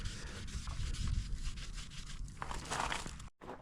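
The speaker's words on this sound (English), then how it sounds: "Here we're gonna take our magic eraser, start hitting these black marks, usually on the shrouds as well as your side panels from your boots and knee braces." Magic eraser scrubbing black boot and knee-brace marks off dirt bike plastic shrouds and side panels, quick close rubbing strokes in an uneven back-and-forth rhythm, alone with no speech.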